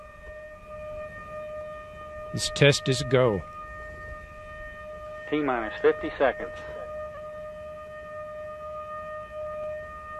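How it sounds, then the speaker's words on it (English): A steady, droning siren tone holds throughout a rocket motor test countdown in Florida, while a voice counts down over it in two short bursts. "Sirens are blaring."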